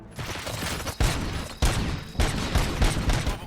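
Gunfire erupts in the RoboCop: Rogue City video game, with four sharp, loud bursts spaced roughly half a second apart over a dense, ringing fusillade backdrop.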